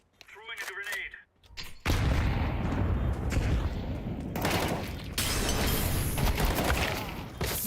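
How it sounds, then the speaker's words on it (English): A grenade detonates in CS2 with a sudden heavy boom that swells into a long rumbling roar, loud and sustained after a brief stretch of quieter game sounds. "Throwing a grenade."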